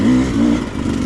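A Sherco 250SE motorcycle pulls up a loose hill in second gear, its engine loud and close with a rising, throaty rev that eases slightly toward the end.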